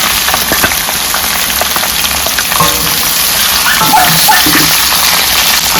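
Ivy gourd pieces fry with browned onions in a hot pan, giving a loud, steady sizzle with occasional stirring scrapes throughout.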